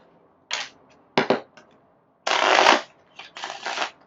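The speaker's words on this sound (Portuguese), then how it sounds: "todas as cartas vermelhas e todas as cartas azuis, e vai embaralhar elas" Playing cards from a two-colour red and blue deck for a football-themed card game prototype being shuffled in several separate riffling bursts, close and crisp, with short pauses in between and no talking.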